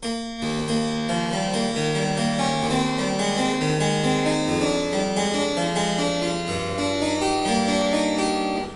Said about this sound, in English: I found this wonderful, wonderful allemande from the French Suite number 4